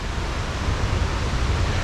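A waterfall at Cliff Falls after a powerful rain storm, heard as a steady broad roar of rushing water with no breaks, loud and continuous, with no voices.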